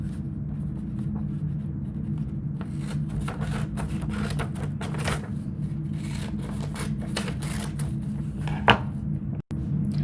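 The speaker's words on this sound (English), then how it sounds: "take your scissors and cut along your dashed line" Scissors cutting paper along a dashed line, heard as quiet, close rustling snips and paper crinkles repeating irregularly over a soft background, with no talking.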